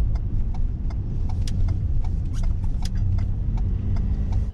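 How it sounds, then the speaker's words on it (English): A campervan's engine rumbles steadily from inside the cab while driving through Glin, County Limerick, Ireland, with small clicks and rattles ticking over the low drone. "So we're just driving through Glynn."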